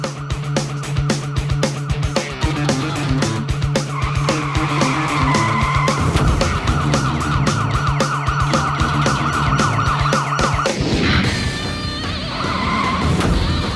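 A police car chase at high speed: wailing siren over roaring engines and screeching tyre skids, loud and close, with the siren rising and falling and the roar shifting near the end.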